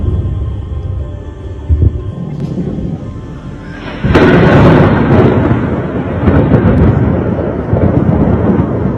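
Heavy, rumbling booms of distant explosions in Kyiv, Ukraine, a sudden loud blast around the middle followed by sustained low roaring, with faint voices in the background.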